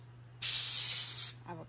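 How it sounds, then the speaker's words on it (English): Avocado oil cooking spray hisses in one steady burst of about a second onto a foil-lined pan and cooling rack, close and fairly quiet, followed by a faint clink. "I'm going to spray my pan, which I lined with aluminum foil"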